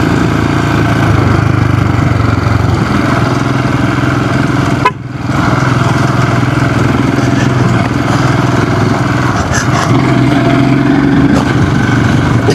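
A Scram 440 motorcycle engine labors steadily while climbing an off-road trail in second gear, loud and close throughout with a constant rumbling drone and a brief dip midway.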